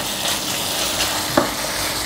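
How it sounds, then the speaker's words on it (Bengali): Onion frying together with ginger garlic paste in hot oil, a steady close sizzle with a faint stir or clink partway through. "এখন পেঁয়াজের সাথে আদা রসুনের পেস্টটা কাঁচা গন্ধটা যাওয়ার আগ পর্যন্ত ভেজে নেব।"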